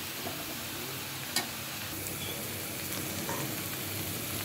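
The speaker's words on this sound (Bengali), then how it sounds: "ভাজিটা আজকে আমি ডাকবো না, ডাকা ছাড়াই ভাজবো। আলু আর পেঁপে দিয়ে দিচ্ছি।" Potato and papaya frying uncovered in a pan give a steady, moderate sizzle throughout, with one brief sharp tick near the start and no voices.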